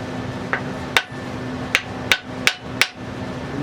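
Five sharp hammer blows knock a chamfered part loose while a T96 is taken apart, falling in an uneven rhythm over a steady background hum, with a fainter tap just before them.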